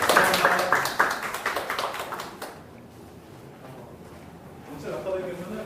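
A lecture audience claps at the end of a talk, a quick burst of scattered hand claps for about two seconds that fades into room quiet, followed by a faint voice.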